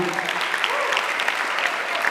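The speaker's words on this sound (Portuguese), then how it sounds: "um aplauso ao Senhor" A congregation at a youth church congress applauds to welcome a pastor, with loud, dense clapping throughout and voices faintly mixed in.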